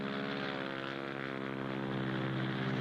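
A propeller airplane drones steadily overhead, its engine hum even and continuous throughout.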